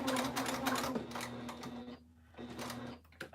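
A sewing machine stitches a Willow Wristlet in short rattling bursts, pausing briefly and then whirring again at close range with no talk.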